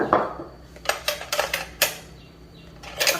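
A utensil stirs noodles and fermented fish broth in a pot, giving a run of sharp scraping and clinking strokes at an uneven pace, close up with no talk.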